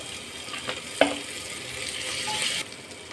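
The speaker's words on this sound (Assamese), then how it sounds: "মই পিঁয়াজখিনি ভালদৰে ৰঙা কৰি ভাজি ল'ম" Onions frying in hot oil with mustard paste added, a steady sizzle with a stirring clatter at about one second, continuing evenly until it quiets near the end, with no voices.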